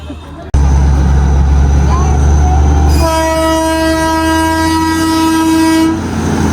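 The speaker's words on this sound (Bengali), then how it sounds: "এই ট্রেন আসছে, আওয়াজ আওয়াজ আওয়াজ, পালিয়ে পালিয়ে পালিয়ে।" The Darjeeling toy train draws near with a heavy, steady rumble, then sounds a loud, sustained horn blast that holds for about three seconds before cutting off.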